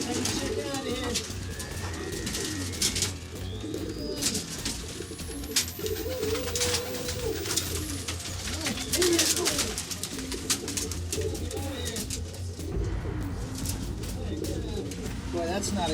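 Pigeons cooing in an infested attic, repeated low throaty coos from several birds nearby, with wing flutters and someone talking over them throughout.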